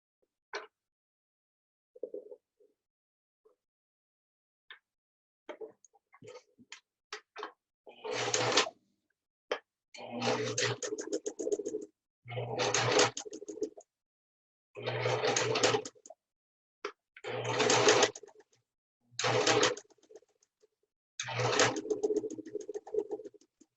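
A sewing machine top stitching a fabric face mask, running in about seven short motor bursts separated by brief pauses, close and clear, with faint handling clicks before the stitching starts and no talking.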